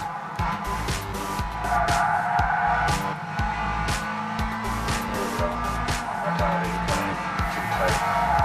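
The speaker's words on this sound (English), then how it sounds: "Oh boy, too much tire squeal." Tires squeal in a racing simulator game driving a stanced pink Miata, a steady engine drone with repeated squealing and scrubbing bursts over the whole stretch, close and fairly loud.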